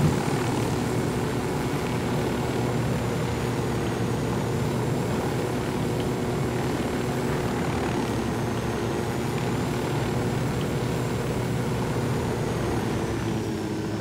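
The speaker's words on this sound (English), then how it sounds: "I'm still in the heli chopper." Steady helicopter engine and rotor roar inside a chopper in Ghost Recon Wildlands, loud and continuous for the whole stretch with a constant droning hum and no speech over it.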